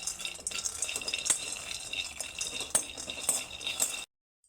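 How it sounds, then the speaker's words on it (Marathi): Peanuts roasted in a pan and stirred continuously, with close metallic scraping and rattling of the spoon against the pan in a steady uneven rhythm that cuts off abruptly. "शेंगदाणे जे आहे ते आपण व्यवस्थित भाजून घ्यायचे आहे आणि शेंगदाणे सारखे हलवत राहायचे"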